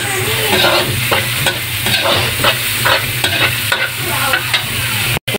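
Onions and garlic sautéing in a pan, a loud continuous sizzle broken by repeated stirring scrapes and clatters in an irregular rhythm, close up with no talking, ending in a brief cut.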